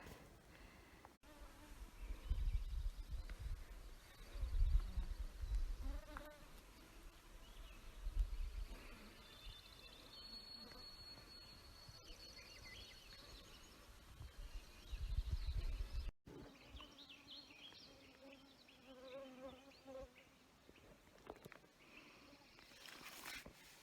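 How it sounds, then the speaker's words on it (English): Mosquitoes whine around a tree planter working among slash in a summer cutblock, a faint persistent buzz with intermittent louder passes, rustling and footsteps close by. "I'm surrounded with mosquitoes."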